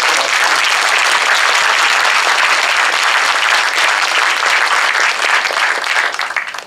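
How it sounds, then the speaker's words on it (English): A crowd at a Camden civic service event gives a warm round of applause, dense and loud clapping sustained evenly before tapering slightly at the end. "give him another warm round of applause"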